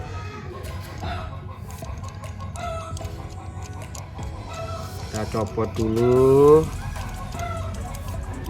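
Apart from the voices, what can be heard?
neighbour's chicken clucking and crowing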